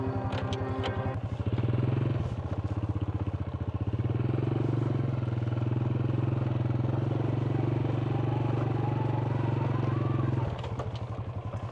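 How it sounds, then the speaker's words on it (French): A motorcycle engine starts and settles into a loud, steady throaty drone as it rides a badly potholed road near the Kampot salt marshes, with some rattling and clatter around it. "on va démarrer la moto"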